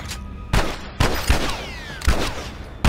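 Gunshots in the video game The Last of Us sound as several loud, sharp reports spaced irregularly a half-second or so apart. Each crack rings out briefly with echo, and a whistling tone sweeps between them.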